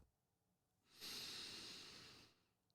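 A single slow breath, close and soft, rises as a smooth breathy hiss, holds for about a second and a half, then fades back into quiet room tone.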